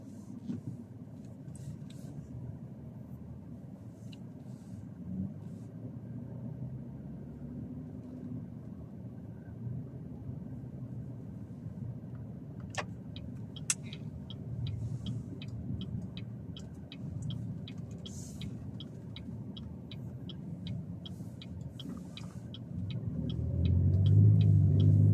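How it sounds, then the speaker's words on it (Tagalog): Road traffic on a busy street, a low continuous rumble of cars passing by at moderate distance, swelling louder as a vehicle draws near at the end. "Traffic ngayon kasi maraming tao."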